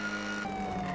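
A police siren wails from the GTA video game, a steady electronic tone that steps down partway through, loud and alone.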